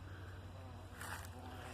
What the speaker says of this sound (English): There's honeybees on them too.